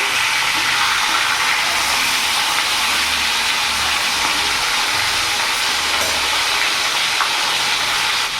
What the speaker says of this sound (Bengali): মাছটা আমার ভাজা হোক